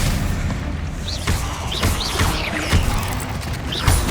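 Magic spell blasts and booming impacts from Hogwarts Legacy combat, a dense run of thuds and crackling bursts over continuous game noise, several sharper hits standing out.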